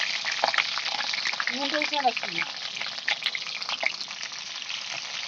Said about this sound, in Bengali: তেলটা এখন আমার গরম হয়ে গেছে এক করে গোটা গোটা মিডিয়াম মিডিয়াম সাইজের আলুগুলো তেলের উপরে ছেড়ে দিলাম খুঁজি দিয়ে নাড়িয়ে নিচ্ছি